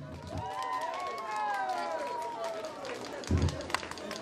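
An audience claps at the opening of the Scorțeni festival of customs and traditions, steady applause rising and falling over a few seconds, with voices and a brief louder burst near the end.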